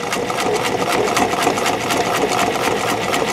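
White 1899 mechanical sewing machine punching its needle through leather, a close, steady rapid chatter of stitching with a dense rhythmic mechanical rattle that keeps a constant pace throughout, no voices over it.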